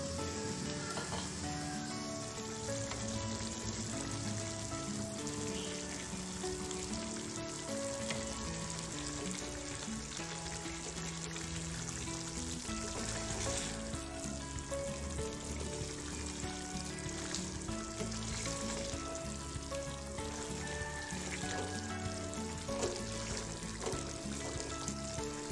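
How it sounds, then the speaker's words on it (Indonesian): Chicken livers fry in a pan with a steady, loud sizzle that runs unbroken throughout, with occasional stirring scrapes and no talk. "Oke, akan saya masak sampai hati ayamnya matang."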